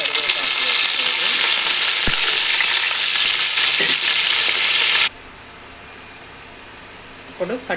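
Onions, green chillies and curry leaves frying in hot oil for a fish curry, a loud, dense close sizzle with stirring that cuts off abruptly, leaving quiet room tone and a few faint clinks.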